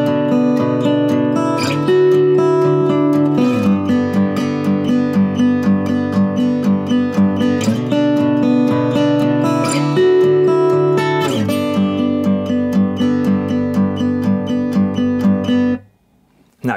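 A guitar strums a repeating chord progression with a steady rhythm for about fifteen seconds, then stops abruptly.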